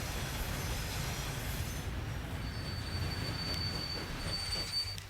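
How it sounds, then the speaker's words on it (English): Tanker train wheels squeal into a depot in the Transport Fever 2 game, a high steady metallic whine running over a constant low rumble of rolling rail cars, loud and continuous throughout with no talk. "Tanker train is almost in the depot."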